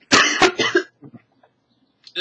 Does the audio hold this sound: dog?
no